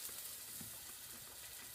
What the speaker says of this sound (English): enjoy the sizzling sounds